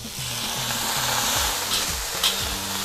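String beans, slightly charred and seasoned with salt and Shaoxing wine, stir-fry in a hot wok with a steady close sizzle and a couple of brief scraping clatters, while a simple melodic tune plays softly underneath.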